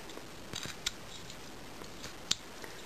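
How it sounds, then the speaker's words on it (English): Scissors cut out part of a paper chickadee craft with a few faint, close snips and two sharper clicks, against a quiet background. "You're going to go in like this. You're going to cut that out."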